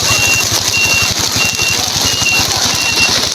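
Motorcycles ride through a flooded road in heavy rain, with a steady mid-pitched engine drone under a constant wash of rain and water, and a faint beeping repeats in the background.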